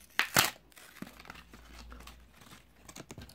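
A scalpel cuts open the plastic packaging of a Kingston microSDXC card, with two sharp tearing bursts at the start followed by softer crinkles and scrapes, close and fairly quiet.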